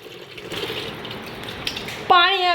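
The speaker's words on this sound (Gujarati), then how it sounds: "પાણી આવી ગયું છે એટલે ઠામ ઘસાશે" Water runs from a household tap at home, a steady rushing hiss lasting about two seconds before a voice cuts in at the end.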